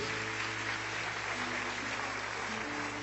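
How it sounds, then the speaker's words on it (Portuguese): A church congregation applauds during a service, giving a steady, dense, moderately distant wash of clapping with a low hum beneath it. "Vamos aplaudir o Senhor Jesus?"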